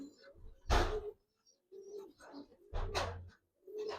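Giribaz hurricane pigeons, a colouring breed, give low cooing calls in a few separate bursts, close by, with quiet gaps between them and faint voices in the background.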